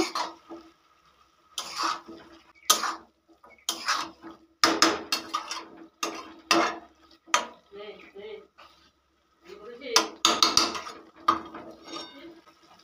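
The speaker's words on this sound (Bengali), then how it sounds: "খুব ভালো করে একবার নাড়াচাড়া করে নেব।" Khesari greens are stirred in a cooking pot with a utensil, giving a series of short, close scrapes and clanks in irregular bursts separated by quiet gaps.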